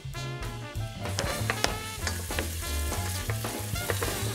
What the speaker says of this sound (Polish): Mięso zaczęło się rumienić